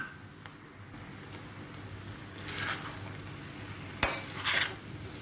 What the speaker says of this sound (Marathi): आता यामध्ये मी खोबरं घालून घेते आणि व्यवस्थित परतवून घेते